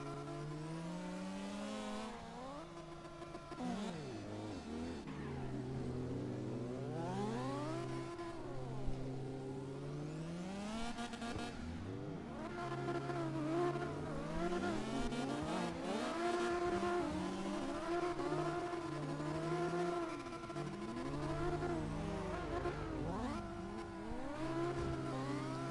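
Mazda RX-8 in CarX Drift Racing, its engine revving and swooping up and down continuously while tires squeal through long drifts, loud and sustained throughout.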